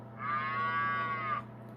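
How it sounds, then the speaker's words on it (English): A single drawn-out cow moo from the green ATSF stock car on an HO scale model railroad layout, a clear electronic-sounding bellow lasting just over a second over a low steady hum. "if anybody's wondering where the cows is coming from, it's that green ATSF stock car"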